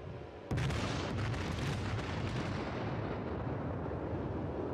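Heavy battleship guns fire in the naval game World of Warships, aboard the Fuso: a sudden deep blast followed by a long, loud, rumbling roar that holds steady to the end.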